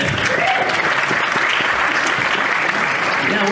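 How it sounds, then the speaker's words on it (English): Convention audience at a science-fiction fan Q&A session breaks into loud, sustained applause, many hands clapping close and full, with a few cheers mixed in. "That's worth the applause, isn't it?"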